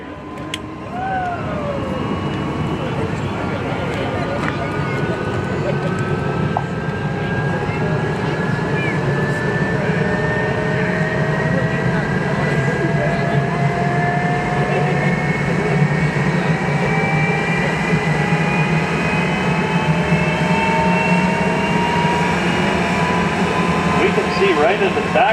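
A jet dragster's engine fires up on race day at the Grand Bend Motorplex drag strip, a loud sustained roar and rising whine building steadily throughout without a break.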